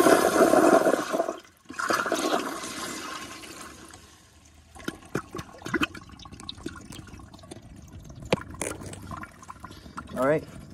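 A partially clogged Toto CT705 toilet on a piston flushometer flushes with a loud rush of water, breaks off briefly, then settles into fainter trickles and gurgles as a person talks.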